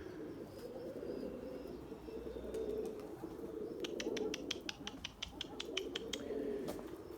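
Pure Erzurum white pigeons coo in soft low repeated phrases, close and steady, while a quick burst of rapid wingbeats flutters past midway as one takes flight.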